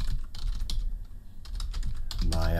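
Typing on a computer keyboard, close bursts of quick, uneven key clicks, with a brief voice rising at the very end.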